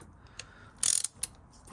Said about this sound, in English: I'm going to torque the front sprocket up now and then just quickly recheck it again